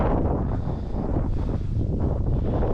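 Constant heavy wind rushes and blusters across the microphone, a loud unbroken roar with slight surges.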